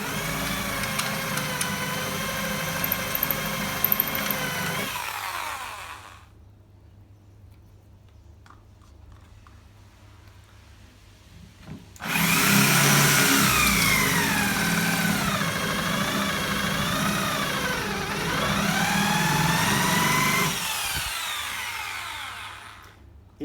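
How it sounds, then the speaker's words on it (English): A power drill whines at high speed, stops for several seconds, then starts again with wavering pitch as it bites into a metal Shimano bicycle crank arm. "So let's do some more drilling and finish this up."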